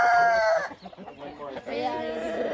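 Hens cluck in a poultry barn, a loud, harmonic call opening the clip, followed by a busy mix of overlapping bird calls and murmuring voices.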